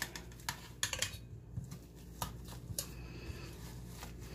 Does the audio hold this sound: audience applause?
no